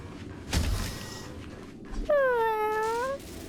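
A creature in Honkai: Star Rail gives a single clear, drawn-out meow that rises and falls after a soft thump, close and loud, with faint background noise.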